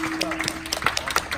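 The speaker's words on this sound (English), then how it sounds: "let's have a big round of applause for Noe Jensen." A brief burst of clapping at a taekwondo black belt ceremony, close and lively with sharp overlapping claps, while a voice carries on over it.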